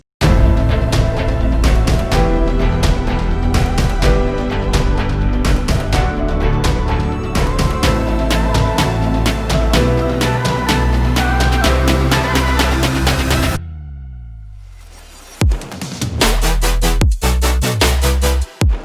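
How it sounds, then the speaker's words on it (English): A dense electronic dance build-up with layered snares and rising synths swelling loudly, then a sudden drop into a sweeping, sparse break before the beat slams back. "With everything together, your build-up should sound like this"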